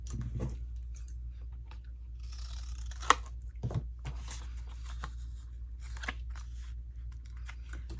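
Sharp snips of scissors cutting paper, a few scattered crisp cuts with quiet gaps between them, close by, over a low background hum.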